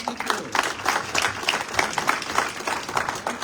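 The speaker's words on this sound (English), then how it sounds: "Let's give a round of applause." Audience applause at an awards event, a steady wash of many hands clapping for the full stretch, moderately loud and even, with no speech over it.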